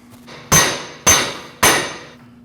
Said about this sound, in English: After tapping it a couple of times with the hammer, it is separating here.